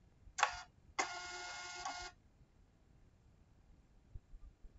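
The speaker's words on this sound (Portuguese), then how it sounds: "aqui é só clicar em imprimir e ele vai imprimir." A NIIMBOT B21 thermal label printer prints an adhesive label: two short mechanical whirring bursts, the second lasting about a second, close and clear in an otherwise quiet room, with no talking.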